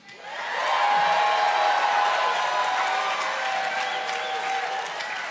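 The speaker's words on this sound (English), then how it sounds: "And finally, a big round of applause to Dennis, the organist." A live audience at a Star Wars-themed Mortified storytelling show in Chicago breaks into applause and cheering for Dennis the organist, building quickly to a full, sustained ovation with some whoops.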